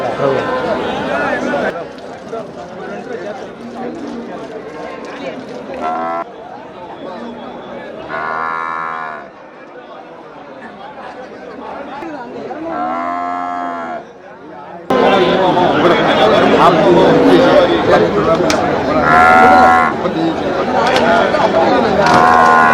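Cattle at Melapalayam cattle market moo in several long, loud calls, close by and spaced through the clip, against steady crowd chatter and people talking throughout.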